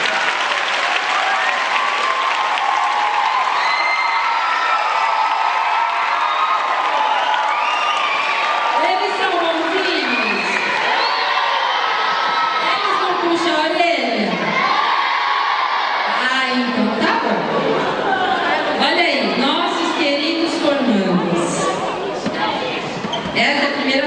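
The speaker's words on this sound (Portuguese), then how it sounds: "Vamos bater uma salva de palmas para eles?" Theater audience at a ceremony applauding and cheering municipal guards, loud sustained clapping mixed with whoops, shouts and lively crowd voices that rise and fall over some twenty seconds.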